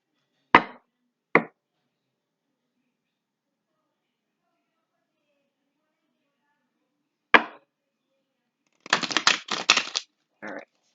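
Tarot cards shuffled in several bursts: two short riffles near the start, then after a long silence a single riffle and a dense run of rapid card flutters, close and crisp, with no talking.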